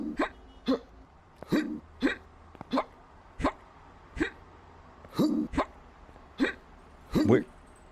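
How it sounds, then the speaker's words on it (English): A video game character hiccups repeatedly in short, sharp bursts, about a dozen spaced unevenly across the stretch, loud and close, with faint background game noise between them. "it sounds like he's got the fucking hiccups"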